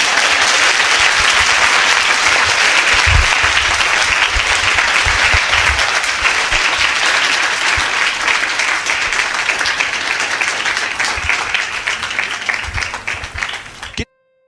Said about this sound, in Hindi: आइए एक अच्छी ताली यीशु के लिए बजाएंगे हम